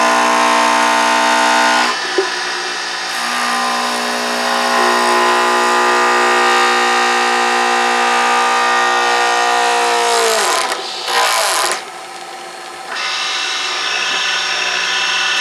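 A wood lathe spins an orange circuit board pen blank with a steady whining hum. The tone drops near the end as the machine slows, then it runs again, loud and close with no talk.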